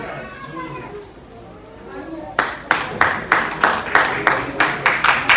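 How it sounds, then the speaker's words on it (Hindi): At a public event honouring a popular YouTube dancer, a crowd breaks into loud, steady rhythmic clapping after a quieter stretch of murmuring voices. "जोरदार तालियों की गड़गड़ाहट।"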